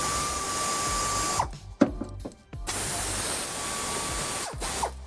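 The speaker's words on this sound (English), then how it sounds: "if there's any corrosion on your bolts here, just go ahead and spray a little lubricant on there." Lubricant sprayed onto corroded bolts during a trailer hitch installation on a 2019 Kia Optima: steady hissing spray bursts separated by sharp clicks and mechanical rattles, close by.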